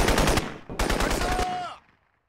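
Two loud, close bursts of rapid machine gun fire, separated by a brief gap, the second burst ending in a fading echo.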